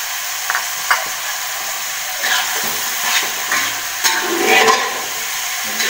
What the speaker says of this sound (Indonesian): oseng-oseng sampai lagi ya sampai tercampur akan ini terongnya